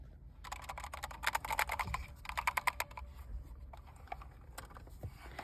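Keys on a new gaming keyboard clack in quick bursts of typing, crisp and close, with short pauses between runs and a quieter tail of scattered keystrokes.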